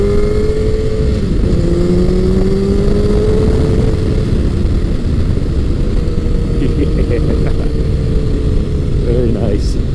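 Honda CBR1100XX Blackbird motorcycle riding in top gear, a steady engine drone with wind rush throughout, pitch rising and falling slightly, while a rider talks over it.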